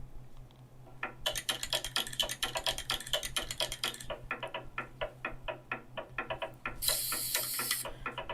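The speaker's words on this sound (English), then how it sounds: "He's shaking up a spray paint can." A rapid, rattling clatter of a spray can being shaken, with a bead knocking inside in quick bursts, close and fairly loud, pausing briefly before resuming.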